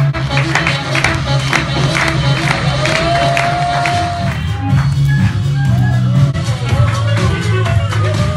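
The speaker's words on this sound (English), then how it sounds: "check the applause" A live audience at a jump rope show claps and cheers loudly, a dense sustained roar of applause and crowd noise with whoops rising over it, close and continuous.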